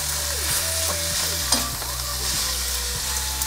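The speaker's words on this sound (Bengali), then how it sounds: "নেড়ে চেড়ে মিশিয়ে দিচ্ছি।" Boiled chicken stirred in a frying pan with a spatula scraping in steady strokes over a loud continuous sizzle, close up, no voices.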